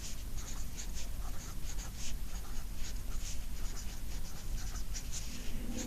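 Pen or pencil writing on paper, a continuous close scratching with short strokes and small pauses, faint and without talk.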